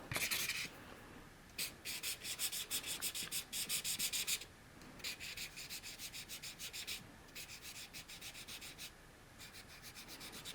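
Ohuhu paper-friendly markers squeak and scratch across paper in repeated bursts of back-and-forth strokes, close and fairly quiet, with short pauses between.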